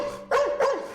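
A Labrador barks twice in quick succession, two short, fairly close, moderately loud woofs with a slight whine between them, and no talking.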